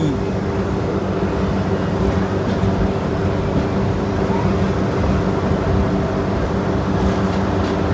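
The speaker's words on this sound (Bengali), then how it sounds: "ট্রেন আমাদের ঢুকছে পুরী স্টেশনে" Howrah Puri SF Express train pulling into Puri station, a steady close rumble of wheels and carriage noise with a low hum, continuous throughout.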